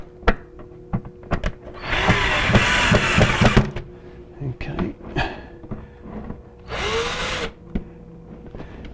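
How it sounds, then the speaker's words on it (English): A power drill drives screws into a shelf-style aquarium and reptile enclosure background, with two sustained whirring bursts of a few seconds each amid handling clatter and brief speech. "I'm just going to grab my drill and screw straight back in place here"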